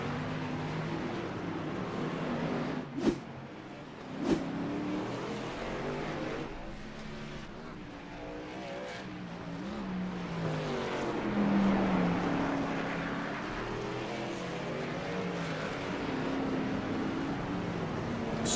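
Race cars run around a track, one pulling right onto another's bumper into turn two. Engine drone rises and falls continuously at a distance, with a couple of sharp pops and no talk over it.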